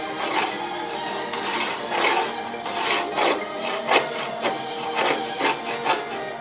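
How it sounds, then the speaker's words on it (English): Wood being scored by hand gives a steady rasping, scraping rub with rhythmic strokes and sharper accents, close and continuous with no voices. "So we'd score the wood and punch it."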